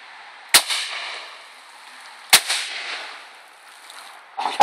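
A Taurus Circuit Judge revolver fires PDX rounds outdoors, with two sharp, distant-sounding shots spaced about two seconds apart, each trailing off in a short echo, and a third report starting right at the end.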